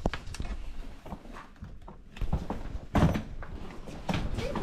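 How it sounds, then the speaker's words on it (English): A heavy hotel room door is pushed open, giving a few knocks and thuds of handle and latch, with footsteps and rustling as people step inside. "Oh, gosh, oh gosh, the door's heavy."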